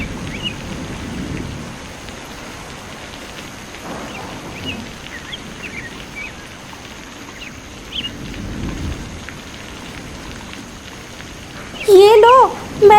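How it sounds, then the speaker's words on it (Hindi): Steady rain falls in a cartoon scene, a continuous hiss with low rumbles of thunder swelling now and then, and a brief bright burst of sound near the end. "ये तो बारिश को भी अभी ही शुरू होना था"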